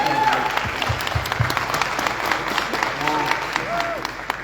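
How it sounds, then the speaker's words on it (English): Audience at a content creators' gathering in Lesotho breaks into sustained applause, a dense wash of clapping with voices talking and calling out over it. "No, let them clap for this."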